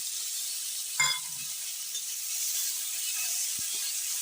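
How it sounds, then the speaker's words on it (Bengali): Chopped tomato hits a pan of frying spices, a soft clink then a steady high sizzle that carries on evenly, with a faint tap later. "এবারে কুচিয়ে রাখা টমেটো সেইটা দিয়ে দেবো"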